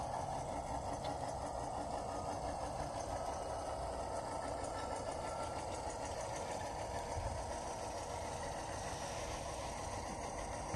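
An HO scale Athearn Genesis GE AC44CW model locomotive hums and whirs steadily at a constant pace, quiet and close, with no voices.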